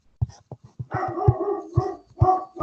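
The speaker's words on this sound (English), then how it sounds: "Sorry, my dog's barking." A dog barks and yowls nearby in a quick run of short yips followed by longer, drawn-out howling barks, loud and alone.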